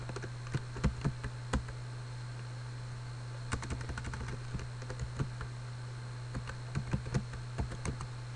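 Password keystrokes on a computer keyboard come as irregular clusters of soft, close clicks over a low steady hum.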